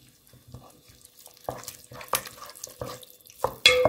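A spoon stirs a börek filling mixture of cheese with a little sugar, red pepper flakes and salt, making sparse soft scrapes and taps that grow louder toward a final clatter, with no one speaking.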